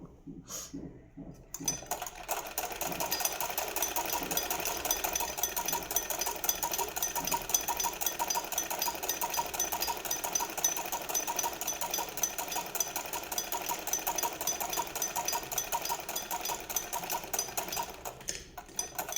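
A sewing machine runs steadily, stitching a straight seam for stitching-course work on a garment, with a continuous, close, even whir and rapid needle chatter that starts after a brief pause and holds throughout.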